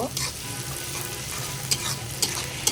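Chopped onion fries lightly in a pan, an even close sizzle with several brisk spatula stirs clicking and scraping near the end.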